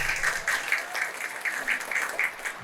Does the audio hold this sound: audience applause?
yes